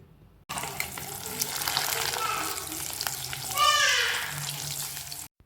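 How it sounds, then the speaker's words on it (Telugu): Eggs fry in oil in a kadai as the pan is tilted and swirled, a steady sizzle that swells into a louder crackling surge near the end, with no speech. "సో సింపుల్గా మీరు కడాయి పట్టుకుని ఈ విధంగా అటు ఇటు కరుపుతూ ఉంటే మనకి ఎగ్స్ అనేవి చాలా ఫాస్ట్గా ఫ్రై అయిపోతాయి"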